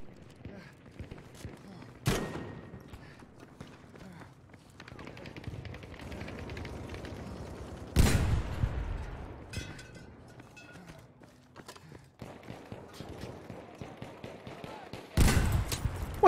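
Rocket launcher fire and blasts in the video game Battlefield V, several sharp booming explosions at intervals amid continuous gunfire and battle noise.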